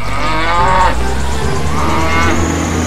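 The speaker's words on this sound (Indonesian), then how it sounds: "Wow, dia bersuara mu. Ya betul teman-teman, ini adalah hewan ternak sapi." A cow lets out a long, loud, low moo that rises and falls, then moos again, close by over steady background rumble.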